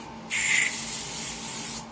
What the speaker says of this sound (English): I'm gonna take my Indie hairspray, hashtag super firm, and just give those a little